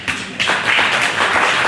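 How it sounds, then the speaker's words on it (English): A church congregation claps hands in a brief scattered burst, several hands tapping irregularly, fairly close and unaccompanied by talk. "Everybody clap your hands if you're excited about tithing"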